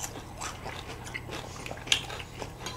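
Crunchy banana granola cereal with dried banana chips is chewed up close, soft repeated crunching bites in an irregular rhythm, fairly quiet.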